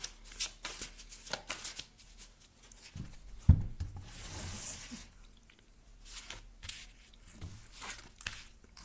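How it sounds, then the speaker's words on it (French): Tarot cards shuffled by hand in an irregular run of soft riffling and papery flicks, close and fairly quiet, with one sharper knock of the deck partway through and no talk. "Si le brassage vous paraît un petit peu long, vous pouvez toujours avancer sur la bande passante."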